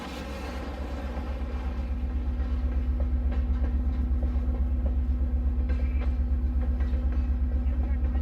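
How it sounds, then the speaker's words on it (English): An HO scale model Western Pacific train rolls along the track with a steady low motor hum and a clickety rhythm that swells slightly at the start and then holds even and close. "The train will be arriving in Orville soon, and then will continue through to Milpitas."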